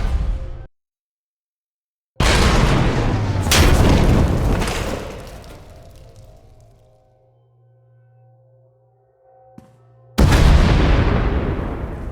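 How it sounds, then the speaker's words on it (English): Two heavy booming explosions in Star Wars: The Old Republic hit after a brief silence, each rolling into a long rumbling decay with low hum, then another blast erupts at the end; a tunnel collapses. "We heard explosions, the tunnel collapsed."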